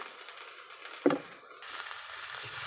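A masala of chilli powder, salt and turmeric fries in a pan for a fish and water lily curry, making a soft, low sizzle broken by one sharp scrape of a spoon partway through.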